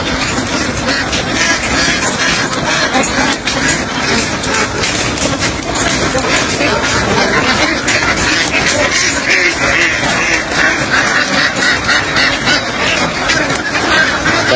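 Newly arrived ducks quack and honk loudly and continuously in a dense, noisy flock close by, a steady chorus filling the whole stretch with no pauses.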